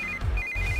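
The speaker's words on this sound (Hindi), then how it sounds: "इस वक्त दीदी का फोन।" A mobile phone rings in a Hindi-dubbed action film, a brief, clear electronic ringtone tone pulsing in the foreground.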